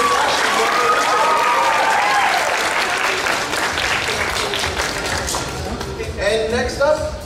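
Audience applause at a spring anime convention costume contest, loud and sustained throughout, with crowd voices and cheers mixed in and a few scattered spoken voices near the end.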